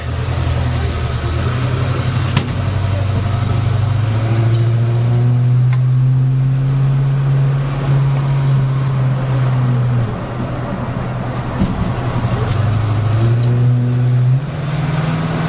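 A 1971 International Travelall 1010 with a rebuilt driveline drives along, its engine droning loudly and climbing in pitch before easing off and rising again through upshifts and downshifts, steady close cabin sound with no talking.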